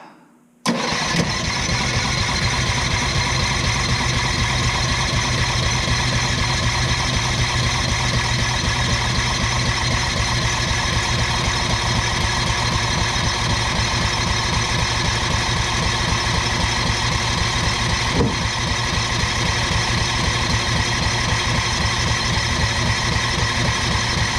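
A Tillotson 212E small engine conversion fires after choking and settles into a loud, steady idle right up close, running evenly without pause, with no voices.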